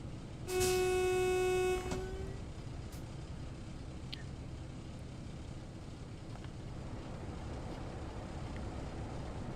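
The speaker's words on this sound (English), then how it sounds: "They do a nice horn, Just Trains." Just Trains railway simulator horn on a British train between Preston and Crewe, one loud steady blast of a bit over a second, followed by a quieter running rumble with faint clicks.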